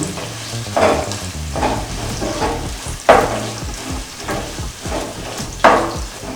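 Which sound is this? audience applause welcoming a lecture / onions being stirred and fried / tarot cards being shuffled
onions being stirred and fried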